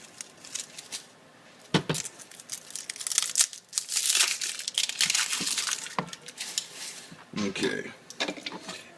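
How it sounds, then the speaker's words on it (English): An onion's papery outer layer is peeled off while making fresh salsa, producing close crinkly crackles and tearing bursts, with occasional knife or dish clinks between the rustles. "peel the first layer off this onion here"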